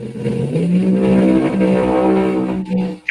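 A car engine revs loud and close with a rising, sustained tone for about two and a half seconds, then drops off abruptly.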